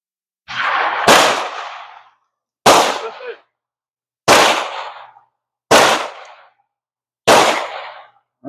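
Five sharp, loud blasts from a Mauser Model 71 rifle fired outdoors, spaced a second or two apart, each followed by a short ringing decay, with no talking.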